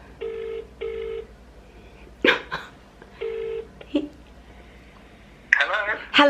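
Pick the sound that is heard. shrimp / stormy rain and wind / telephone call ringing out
telephone call ringing out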